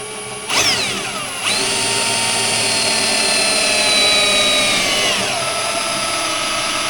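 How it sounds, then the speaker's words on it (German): A handheld electric drill bores through 1 mm sheet metal in a workshop, a loud whining motor spinning up sharply, pitch shifting as the bit bites, then running steadily near the mic. "Das bohre ich jetzt per Hand."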